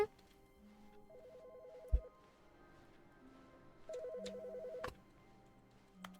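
A telephone rings in two separate bursts of repeated electronic trills, each lasting about a second, at moderate distance, with quiet room noise and a brief knock between them.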